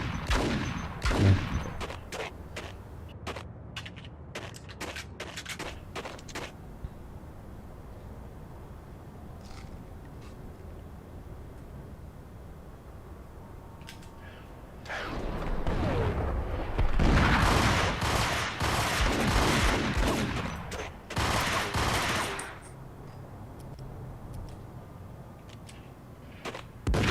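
Gunfire in the Max Payne video game: scattered sharp shots in the first seconds, then a long dense burst of rapid automatic fire later on, loud and close with quieter gaps between.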